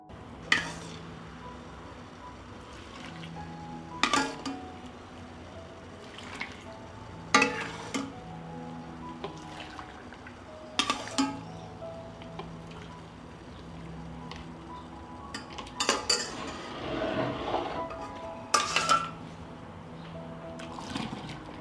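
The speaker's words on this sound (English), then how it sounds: "I'll stir it and immediately pour the hot dressing into the jars." Hot plum dressing is stirred and poured into glass jars, with faint trickling liquid and scattered sharp clinks of utensils against glass and pot, quiet and close.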